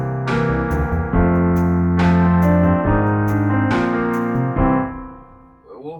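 A synthesized song built from noise and filters in WebAssembly and JavaScript, playing sustained tonal chords with a few sharp, bright note attacks over about six seconds, then fading at the end.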